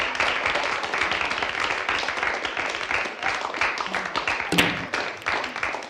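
A crowd applauds steadily for an underdog at a virtual 9-ball pool world championship match, a dense continuous clapping wash with a brief sharper accent near the end.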